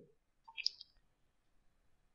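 A single computer mouse click is heard close and faint, a quick pair of light taps in an otherwise quiet room.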